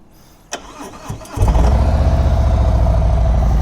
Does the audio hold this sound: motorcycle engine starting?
yes